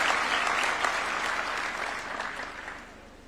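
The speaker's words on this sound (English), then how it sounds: "A round of applause for her." Applause from an audience at a presidential award ceremony at State House, Nairobi, a steady burst of clapping that fades out over a few seconds, with no one talking.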